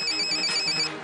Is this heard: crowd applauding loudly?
no